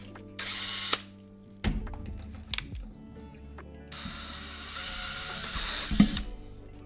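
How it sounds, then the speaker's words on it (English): A power drill whirs in two sustained bursts, separated by clunks, taps and handling noises close by. "I guess I could just use the same drill"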